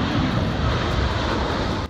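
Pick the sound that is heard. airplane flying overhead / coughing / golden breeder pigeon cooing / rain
airplane flying overhead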